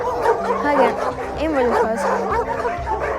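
A large pack of dogs bark, yip and whimper at once, loud and continuous, mixed with voices speaking over the din.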